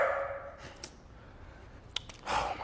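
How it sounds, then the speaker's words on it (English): A dog barks at a newly arrived pet cat indoors: a few short, fairly faint barks spaced out over room noise, with a louder burst near the end. "Why are you barking, bro?"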